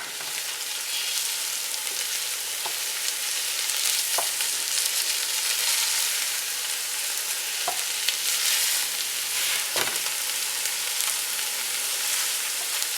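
Ground pork sausage, still partly frozen, sizzles steadily in a pan with a constant crackling fry and a few sharp clicks of stirring, close and unbroken with no voices.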